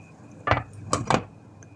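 A metal lid clanks onto a pot of simmering chicken feet in soy sauce, three quick bright knocks close by as it settles into place, with no talking.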